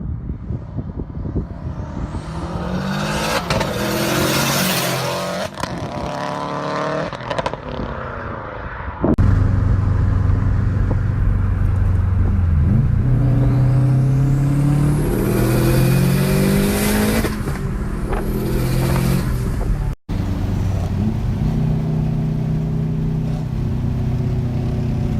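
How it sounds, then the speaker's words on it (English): A car accelerates hard through repeated wide-open pulls on Arizona roads, its mid-range engine revving up through the gears with rising whines and brief lifts between shifts, loud and close, with no talk. "I did a lot of pulls in this car."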